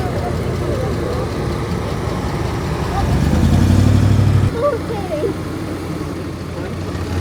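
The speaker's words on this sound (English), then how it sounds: "There's a Celica coming up the drive." A Toyota Celica engine approaches up a drive at a car show, a steady mid-range hum that swells into a louder low drone, then drops back to a lighter idle-like murmur with outdoor ambience.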